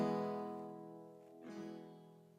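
A single guitar chord rings out and slowly fades, then is strummed again softly, quiet and close with no talking.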